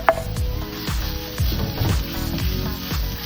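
Garlic added to softened onions and vegetables sizzles loudly in a hot pan, a bright crackling fry punctuated by the scrape and clatter of stirring at a steady rhythm.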